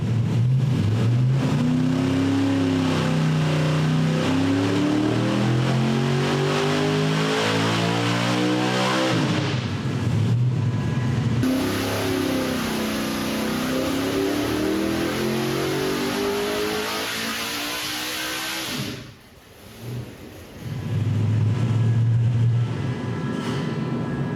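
A carbureted engine fitted with a 3D printed intake manifold revs hard on a dyno, rising through long loud pulls, dropping off briefly and surging back up, close and with no talk.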